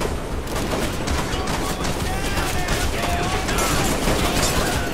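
Dense, continuous gunfire from enemies in the violent shooter game Hatred, a loud overlapping barrage of rapid shots and bursts that runs the whole stretch without a break.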